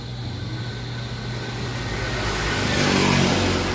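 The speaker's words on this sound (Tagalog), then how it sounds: "maingay dito dahil malapit kami sa highway" Constant roar of traffic from a nearby highway, with engine rumble swelling as a vehicle seems to pass, no voices.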